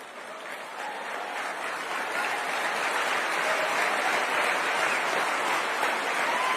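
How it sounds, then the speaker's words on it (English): A large crowd at a political talk gives a standing ovation, sustained applause that swells over the first couple of seconds and then holds as a dense, roaring wash of clapping. "Big claps."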